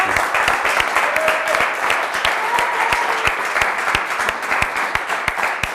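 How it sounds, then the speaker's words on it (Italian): A studio audience from local Pro Loco associations applauds contestants on an Italian game show, sustained clapping with sharp individual claps standing out and a faint voice underneath. "vi accomodate, Guido e Dennis, con l'applauso delle Pro Loco"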